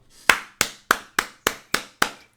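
Hands clap seven times in a steady rhythm, each sharp, close clap spaced about a third of a second apart, with nothing else heard.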